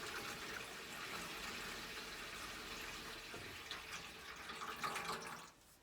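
Water runs steadily from a caravan's taps and shower during a system flush, a soft continuous hissing stream with a few splashes before it cuts off near the end.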